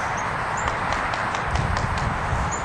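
Hooves of a mustang mare clip-clop in a steady, irregular rhythm over constant broadband background noise, moderately distant.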